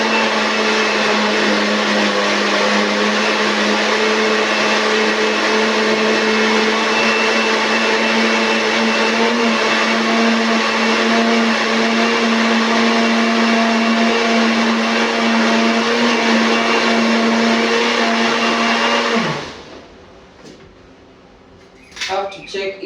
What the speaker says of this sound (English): we are going to blend our mixture together